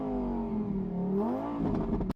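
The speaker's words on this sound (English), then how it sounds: "Flip open the switch and start the engine." A Lamborghini Huracan Evo Spyder engine fires up and settles into a rising, steady idle hum, close and moderately loud, ending abruptly.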